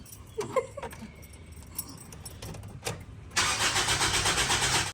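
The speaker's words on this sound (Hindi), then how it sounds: "जाओ अंदर जाके स्टार्ट करो गाड़ी को" A few clicks and clatters, then a car engine turns over and catches, settling into a loud, pulsing idle.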